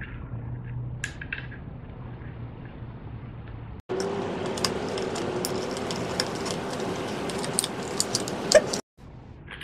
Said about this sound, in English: we'll go ahead and put the screw in